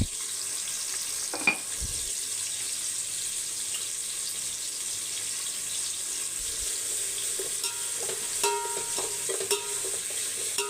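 Onions sauté in a pan with a steady, faint sizzle, broken by an occasional scrape or clink of a spoon, with no talking.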